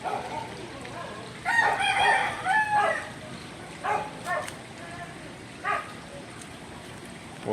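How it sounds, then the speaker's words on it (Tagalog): A rooster crows loudly nearby, followed by shorter clucks and calls from tethered chickens behind a house, with a flowing stream murmuring steadily underneath. "Puro manok na tinali."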